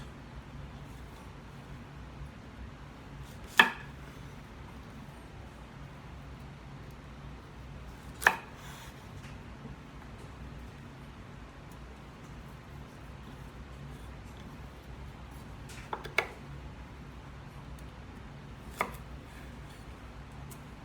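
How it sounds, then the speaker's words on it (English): A knife cuts fresh broccoli into serving-size pieces on a cutting board. Several sharp, isolated chops land several seconds apart, including a quick double chop, over a quiet room hum. "I'm going to prepare roasted broccoli by cutting it into serving sizes first"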